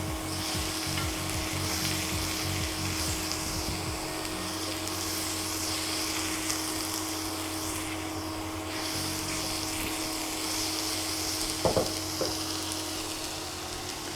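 Sweet sticky pork sizzles and fries steadily in a pan, a dense continuous hiss with a few brief clinks and stirring scrapes near the end, no talking.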